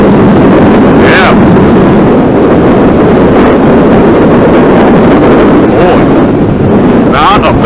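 A 2019 Royal Enfield Interceptor motorcycle riding in second gear, its engine droning under heavy wind buffeting on the microphone, with a rider's voice breaking through briefly.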